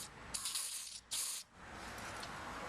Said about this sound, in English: if you have a little carb cleaner, spray a little in there